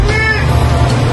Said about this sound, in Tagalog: Meow nang meow yung pusa ko.